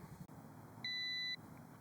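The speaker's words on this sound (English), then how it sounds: "that last beep was it saying it's ready" Veeniix V11 Air drone giving a single short electronic beep to signal it is ready, a clear steady tone lasting about half a second over a quiet background.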